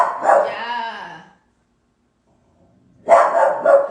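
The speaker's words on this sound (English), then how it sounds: "There's dogs being walked across the street." Dogs being walked across a street bark from a distance in two bursts, one at the start and another near the end, separated by a quiet gap.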